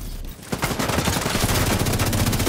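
Rapid automatic gunfire in the co-op shooter game Army of Two, dense bursts starting after a brief quiet lull and continuing loud and sustained to the end.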